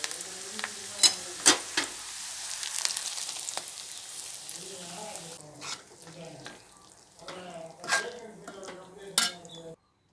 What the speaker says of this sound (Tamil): கடுகு உளுத்தம்பருப்பு சீரகம் வெங்காயம் கருவேப்பிலை எல்லாம் வதக்கிட்டு கூட்டோடு போட்டேன் நல்லா கிளறி விட்டாச்சு